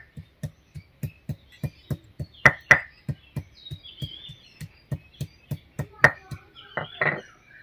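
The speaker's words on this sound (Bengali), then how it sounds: "আর প্রথমে একটুখানি আদা বেটে নিচ্ছি" Ginger is crushed into paste on a grinding stone in a home kitchen, giving a steady series of sharp, evenly spaced thuds and scrapes, close and fairly quiet, with a few bird chirps faint in the background.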